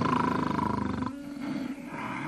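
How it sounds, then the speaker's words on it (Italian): A lion-like animal snoring or roaring with a deep, pulsing rumble for about a second, followed by a lower, rougher continuation. It sounds close and loud, with no talk over it. "Io sono entrato perché sentivo un animale che russava."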